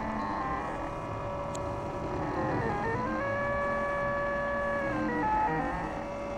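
A Printrbot 3D printer hums as its motors move the head, with steady whining tones that slide up and down in pitch over a constant mechanical drone.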